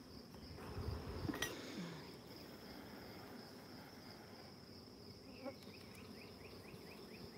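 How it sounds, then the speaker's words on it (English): Honeybees at an open hive during an inspection hum in a steady, dense buzz that fills the whole stretch, with a couple of faint clinks early on and no voices. "So here's brood. There's a supersedure cell on that one."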